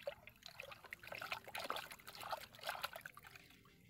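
A liquid mixture is stirred before filling a knapsack sprayer, giving soft trickling and sloshing splashes in uneven bursts, quiet and close, with no talking.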